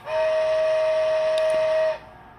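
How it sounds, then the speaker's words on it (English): A Bachmann GS4 American Freedom Train model steam locomotive's sound decoder blows one steady, fairly high-pitched whistle for about two seconds, loud and alone, then cuts off. "the whistle is a little bit more high-pitched than the prototype"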